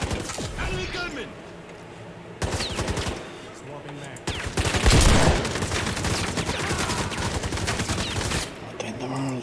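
Enemy gunman fires in a chaotic video game firefight, dense bursts and volleys of gunfire rattling loud and close, with explosive crashes and a speaking voice partly under the shooting.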